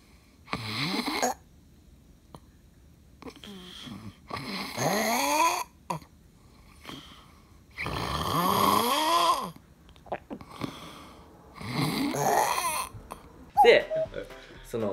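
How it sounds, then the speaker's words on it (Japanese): Loud snoring in repeated long rasping breaths, about five snores spaced by quiet pauses, close up. "ここで皆さん、いびきを聞いてください。"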